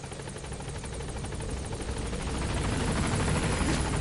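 The Pequod helicopter in Metal Gear Solid 5 arriving at a landing zone, a steady whirring rotor chop that grows louder as it comes in, with no voices.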